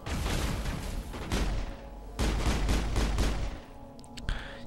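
Gunfire in the Mass Effect video game: loud, close bursts of rapid automatic fire broken by short pauses, with a heavier, booming stretch partway through.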